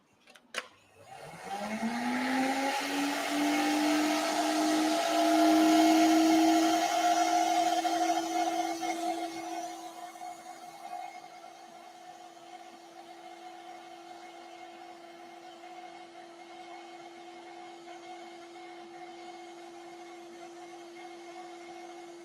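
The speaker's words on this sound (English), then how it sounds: "So now I'm just vacuuming off the excess." Vacuum cleaner lifting loose scatter glued down with PVA on model railway scenery, a steady close whine that starts abruptly, swells loud for several seconds, then settles into a lower continuous drone.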